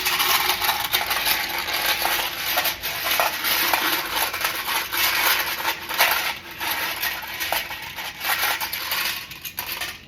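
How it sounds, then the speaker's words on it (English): Loud metallic clatter of spent shells tumbling and dropping, a dense continuous jangle of small hard pieces striking each other, steady throughout with no voices. "These shells are loud."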